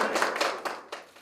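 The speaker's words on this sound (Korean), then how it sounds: "의원님 나오실 때 큰 박수 부탁드립니다." Brief, moderate applause with a few distinct claps rises from the audience at a Seoul policy forum on lifelong education for people with borderline intelligence as a council member comes forward.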